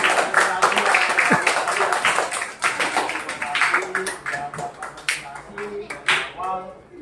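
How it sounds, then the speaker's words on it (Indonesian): Primary school pupils in an Indonesian classroom clap for all the groups. The claps are loose and scattered, mixed with chatter and children's voices, and the clapping thins out over several seconds. "Tepuk tangan buat semua kelompok"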